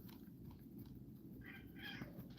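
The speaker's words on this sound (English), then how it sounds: "You can hear my cat being a crazy guy." A pet cat makes a faint, short vocal noise partway through, low in level against a steady indoor background hum.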